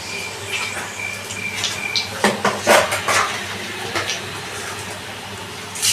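Dried red chilli and a bay leaf dropped into hot oil in a pan for tempering, giving a close sizzle with a few metallic clinks of utensils.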